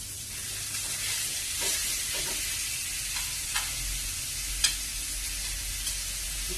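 Ground meat sautéing in a pan for a mung bean vegetable dish, already seasoned with pepper: a steady close sizzle runs throughout, broken by a few light scraping stirs and small clicks.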